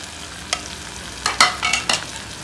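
Ground spices, coriander, cumin, red chilli, black pepper and turmeric, roasting in a kadai for a Jain-style mixed vegetable dish, with a few scraping stirs and soft bursts of sizzle at close range, no voices.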